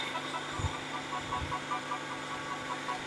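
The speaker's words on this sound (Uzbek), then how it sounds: "Mikroklimatni yoqdik. Mana ko'rishingiz mumkin," A switched-on microclimate ventilation unit runs with a steady mechanical hum and vibration, and two soft low thumps come near the start.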